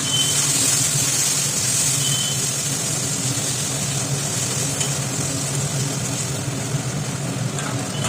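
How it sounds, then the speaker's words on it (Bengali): Tomato paste stirred into a frying stingray fish curry with potato and elephant foot yam: a steady oily sizzle runs throughout, with soft scraping from stirring and no voices. "এবার টমেটো বাটাটা দিলাম, দিয়ে এবার আমরা ভালো করে নেড়ে নেব"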